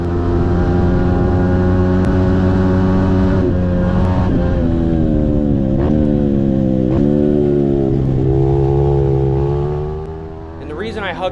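A racing kart engine held at full throttle across an open field, loud and close, its pitch climbing and dipping slightly over the run with a couple of sharp blips, then easing off near the end.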